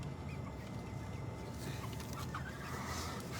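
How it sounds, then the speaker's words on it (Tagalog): Chickens cluck and murmur softly in a steady, noisy outdoor background, with a few brief calls rising over the din. "Nakakatuwa ang mga manok, no?"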